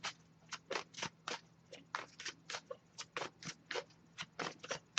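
Tarot cards being shuffled by hand, a close series of quick papery riffles and soft flicks in an irregular rhythm, about a dozen bursts with brief pauses between.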